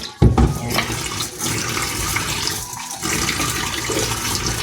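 Tap water runs steadily into a sink during dishwashing, a loud continuous gush with a brief clatter at the start and a short dip near the middle, with no talking.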